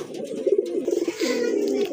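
A pair of large Andalusian-coloured pigeons coo nearby in steady, rolling phrases, loud and close with no talk over them.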